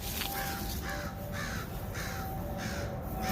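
A crow caws repeatedly outdoors on a rural ranch property with apple trees, giving a steady series of about six harsh, evenly spaced calls over a constant background hiss.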